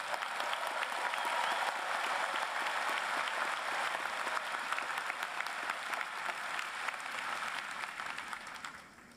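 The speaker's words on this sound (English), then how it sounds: "Maybe a round of applause for your family and friends." At a UCLA college commencement in Pauley Pavilion, a large indoor audience applauds the graduates' family and friends with steady, dense clapping for about nine seconds before it starts to fade.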